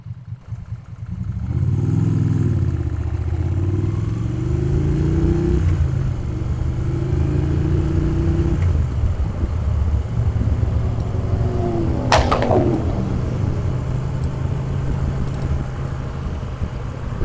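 A Moto Guzzi Breva motorcycle rides out toward Box Hill, its engine droning loud and steady throughout with gear changes and shifts in pitch, plus a brief clatter near the end.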